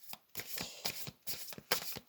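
A deck of cards is riffled and shuffled over and over in a quick rhythm of papery flutters and soft taps, close up and fairly quiet, with no talking.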